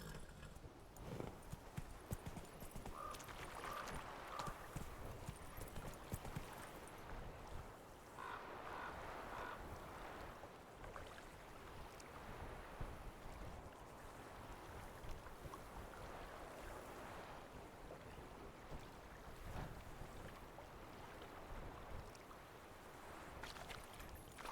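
Roach the horse in The Witcher 3 being ridden in a video game, with steady clip-clop hoofbeats over wind and ambient rushing, fairly quiet, and no talk.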